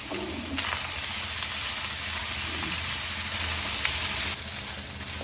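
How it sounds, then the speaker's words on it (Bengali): Rice with soy sauce being stirred as it fries in a pan for egg chicken rice, a continuous close sizzle with occasional scraping stirs, the frying noise dropping slightly near the end. "এখন আমি রাইসটাকে একদম ভালো মতো নাড়তে থাকবো।"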